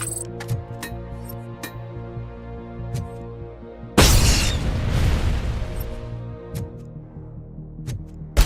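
A grenade blast in the RoboCop video game erupts as one loud, broad boom that swells and rumbles away over a couple of seconds, set among sparse clicks and game sounds before and after.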